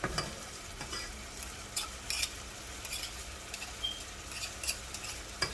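Chopped, crushed garlic frying with onions in a pan, a soft continuous sizzle broken by light scraping and tapping of a utensil stirring, fairly quiet and close, with no talk.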